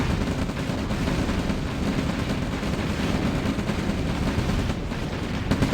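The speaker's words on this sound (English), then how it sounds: "the artillery are shooting at the tanks" Artillery pounding tanks in the real-time strategy game OpenRA Red Alert, a dense, continuous barrage of rumbling booms and blasts, loud and unbroken, with no talking.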